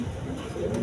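A pair of big kacchi pigeons coo softly in a brief, low, throaty murmur close by.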